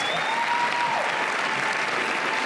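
Steady, full applause from an audience at an award presentation during a city partnership's annual meeting. The dense clapping holds at an even level throughout.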